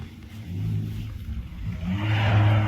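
A car drives past outside, its engine rumble rising from a low hum to a louder revving swell toward the end, moderately near, with no talking.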